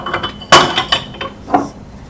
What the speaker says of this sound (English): you take the charcoal and you put it in the press